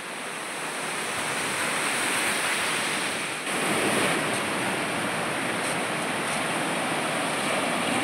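Ocean waves wash in at Kovalam beach as a broad, steady roar of surf, with wind noise on the microphone and a brief dip before the rushing swells again, no voices.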